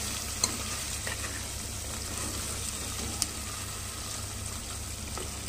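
Salt and chilli powder being stirred into a frying mutton bone curry with amaranth leaves, a steady low sizzle with faint scraping and a couple of sharp utensil clicks, close and continuous with no talking.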